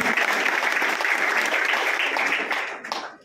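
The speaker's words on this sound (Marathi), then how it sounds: "त्यामुळे तर टाळ्या होऊ जाऊन द्या तुमच्यासाठी" Audience at a felicitation event for a newly appointed IPS officer breaking into dense, loud applause that holds steady for a few seconds before tapering off.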